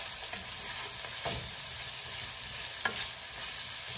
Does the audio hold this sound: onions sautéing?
yes